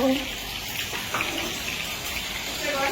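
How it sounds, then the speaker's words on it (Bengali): Water running from a tap while food is washed clean, a steady close gush with a voice talking over it. "ধুয়ে পরিষ্কার করে জাস্ট রেখে দিচ্ছ"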